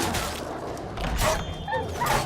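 Dogs bark and yip in The Witcher 3: Wild Hunt, several short yaps spread across the moment at fairly close range over background game noise.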